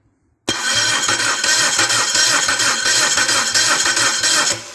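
A Neon engine bolted to a stand cranks over on its starter in a steady, loud, rhythmic churn that begins abruptly and runs without firing for several seconds, close by and without talk.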